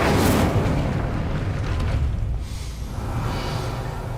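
Incendio fire spell cast in a Hogwarts video game, a loud whooshing burst of flame at the start that settles into a rumbling roar and fades over a few seconds.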